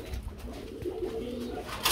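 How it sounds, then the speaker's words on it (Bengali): An Iranian pigeon cooing at a pigeon market, a brief low, throaty coo heard close by against a murmur of background noise. "কবুতর তো বুঝলাম, কি কবুতর ভাই এটা? আর ইরানি কবুতর।"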